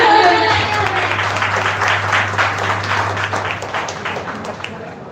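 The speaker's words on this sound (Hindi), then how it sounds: "एक बार जोरदार तालियां।" Audience at a singing audition for Uttarakhand singers in Dehradun applauds a contestant, with loud, dense clapping that runs steadily through the whole stretch beneath a constant low hum.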